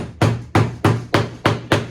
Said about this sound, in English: I just hammer them in and mud over it.